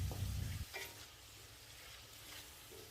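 Chicken karahi frying with salt in a pan, a loud burst of sizzling and stirring at first, then settling into a faint, steady sizzle.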